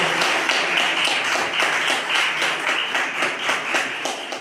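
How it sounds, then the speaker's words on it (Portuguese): A church congregation claps in a steady, rhythmic beat for several seconds, the sound full and continuous, with no voice on top. "Palmas para Ele."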